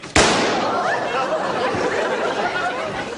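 A single loud gunshot fired to blow the lock off a door, an abrupt bang followed by a long rumbling reverberation and background crowd noise.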